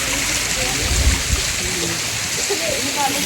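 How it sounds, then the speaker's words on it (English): An artificial waterfall among rock structures and trees in the Rock Garden, Chandigarh, gives a steady, loud rushing and splashing wash, with faint voices blended into it. "you can see behind me this another waterfall over here"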